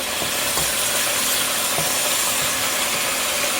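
Ribs cooked in beer browning in a batch in a pan give a steady, close sizzle with scattered small pops and crackles throughout, and no voices.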